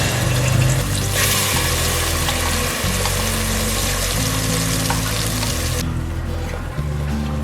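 Ground masala paste hits hot oil in a pan for chicken masala fry, giving a loud, continuous spattering sizzle over a steady low hum, which thins out near the end.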